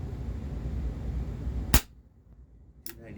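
A single sharp snap from a Walther PPS M2 compact airsoft pistol by Umarex, fired once against a low hum, followed by a fainter click a moment later.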